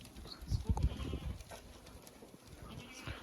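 Goats bleating in a goat sale lot of vaccinated Osmanabadi goats, a few short calls in a burst near the start, then quieter livestock noises against a low background.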